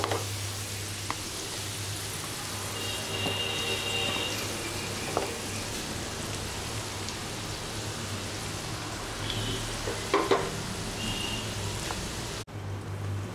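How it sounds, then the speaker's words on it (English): Gooseberries (amla) fry in a covered pan, giving a continuous, fairly loud sizzle and crackle, like steady rain, with a few sharper pops and a clunk near the end. "While the gooseberries are frying,"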